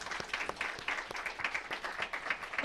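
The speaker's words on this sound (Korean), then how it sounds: "우리 박수로 하나님 앞에 감사와 영광의 박수" A church congregation at a New Year's Eve service claps together, giving a steady, moderately loud wash of rhythmic applause lasting a few seconds.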